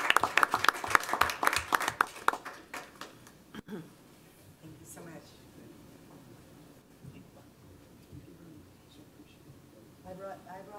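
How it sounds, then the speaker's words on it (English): Applause at a city council meeting in Snoqualmie, Washington, opens with sharp, close clapping from a small group of attendees, fades within a few seconds, and then gives way to quiet room noise and scattered talk. "it's appropriate to applaud"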